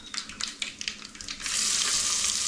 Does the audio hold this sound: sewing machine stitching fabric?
no